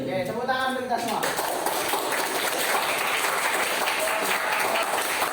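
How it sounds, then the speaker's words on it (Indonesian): A classroom of students breaks into clapping after a voice at the start, and the dense, steady applause carries on to the end. "Oke, tepuk tangan untuk kita semua."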